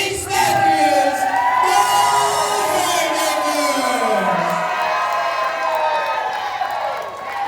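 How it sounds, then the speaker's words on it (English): Crowd at a wrestling tag team championship match booing loudly, a dense sustained roar of many voices with drawn-out jeers and scattered shouts that carries on without a break. "Brandon Collins booing."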